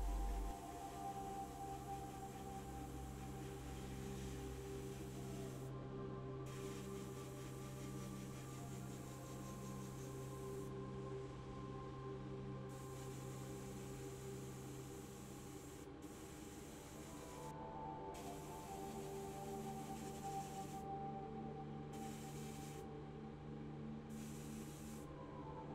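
Vallejo polyurethane varnish being sprayed onto a restored Matchbox Aveling-Barford tractor shovel diecast model, a faint continuous hiss over a low hum, with the spray cutting in and out in short bursts.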